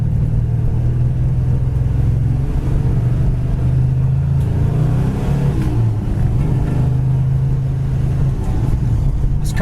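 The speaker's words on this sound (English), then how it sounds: "This car shifts great. There's first, second, third, shifted right into fourth." A 1969 Plymouth Road Runner rumbles with a deep, steady V8 drone while driving, the pitch easing briefly around a gear change midway, loud and close throughout.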